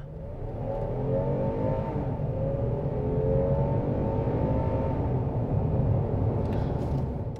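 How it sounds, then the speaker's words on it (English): A Kia Telluride all-wheel drive three-row SUV accelerates hard, its engine a steady, loud rising drone heard from inside the cabin for several seconds without a break. "let's check out this all-wheel drive acceleration."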